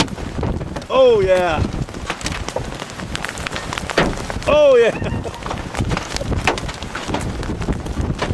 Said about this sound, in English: Approximately golf ball size hail.